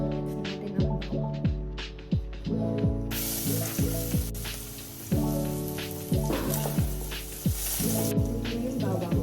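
Garlic fries in chicken oil in a pan, crackling and sizzling loudly, with a hiss that flares in bursts over rhythmic clanking as the pan is worked.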